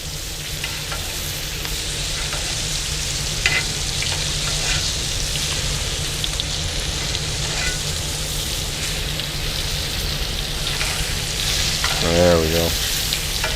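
Steak frying in very hot oil with oregano, a steady loud sizzle crackling throughout, with a brief spoken remark near the end.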